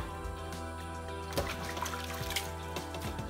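Water trickling steadily during the final rinse of burnt cow skin, a soft continuous flow with a few faint splashes and clinks over a low background hum.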